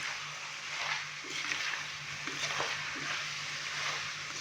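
Beef tikka karahi with finely chopped tomatoes and spices being fried in a karahi, giving a soft, steady broad sizzle with occasional faint stirring scrapes, fairly quiet and close, with no voices.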